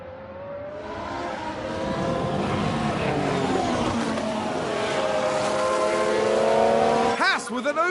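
Formula 1 race cars overtaking in F1 Manager 22, a loud sustained high-pitched engine whine with rising and sliding pitch as cars pass close by, ending in a sharp Doppler sweep, with commentary over it.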